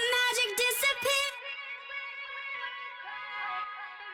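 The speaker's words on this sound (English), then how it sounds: "So this tape delay was super crucial in getting a really big atmospheric vocal effect" A Valhalla tape delay tail trails off a sung vocal line, the sustained voice cutting out after about a second while washy, fading echoes hang on alone for several seconds.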